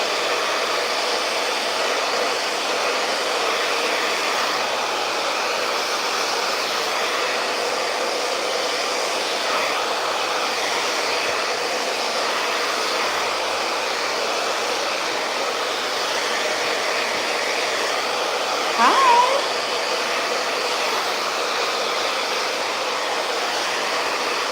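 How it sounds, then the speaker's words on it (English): Hair dryer blow-drying hair held taut by hand in the tension method, a loud steady whooshing hum that runs continuously, close to the listener. "this whole time I've been holding her hair while I'm blow drying it"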